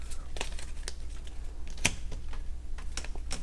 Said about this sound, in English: So you're gonna shuffle each of these decks up so you don't know what's what.